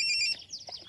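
A phone rings with an incoming call, a bright repeating electronic tone pattern that cuts off after a moment, followed by quiet rustling.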